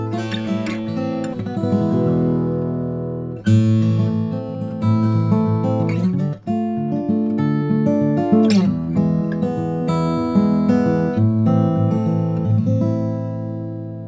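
A Martin D-18 Rich Robinson acoustic guitar, a 2022 model, rings out in strummed chords and picked runs, full and resonant with clear sustain and a few brief pauses, heard alone without talk.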